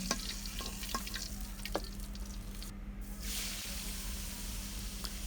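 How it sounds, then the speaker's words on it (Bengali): Chopped onion frying in oil left over from frying fish gives a steady, close crackling sizzle with scattered pops and occasional stirring, with no talking. "এই মাছ ভাজার তেলের মধ্যেই আমি দিয়ে দিব পেঁয়াজ কুচি"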